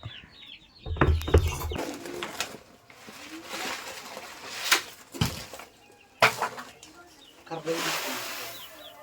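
Chickens cluck and call in short bursts around a village farmyard near paddy fields, several birds near and far, with intermittent clatter and a voice in the background.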